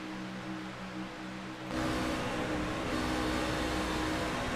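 Race car engine droning steadily from inside the cabin of the No. 13 car at ISS Super Speedway, the roar jumping louder partway through and then holding constant.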